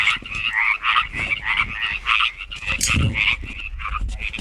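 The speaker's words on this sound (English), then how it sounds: "some toads, as you can hear" A chorus of toads croaks in rapid, overlapping trills, close and continuous, with no talking.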